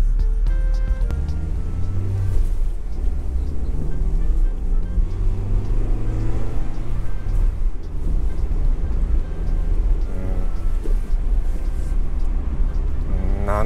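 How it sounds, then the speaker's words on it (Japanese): Steady engine and road rumble from inside a new 2024 Mazda Roadster on its first drive, the engine fairly subdued and even throughout with continuous tyre and cabin noise and no talking. "エンジンの音がちょっとおとなしめに、ちょっとじゃないな、そこちょっとそこそこおとなしめになった気がする。"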